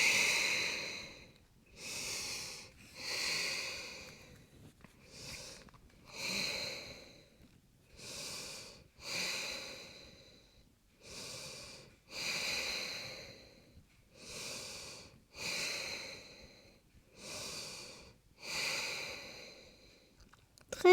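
Slow, deep breaths held in a yoga pose, a regular cycle of about six drawn-out inhales and exhales, airy and close, with quiet pauses between them.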